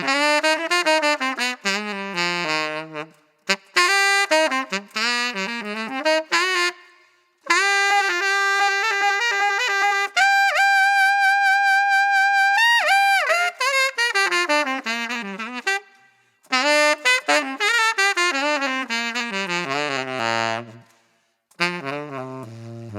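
Solo tenor saxophone fitted with a Robert Martin Signature mouthpiece, played alone in a room: sustained notes and runs moving from breathy low subtone to full tone, with brief pauses between phrases.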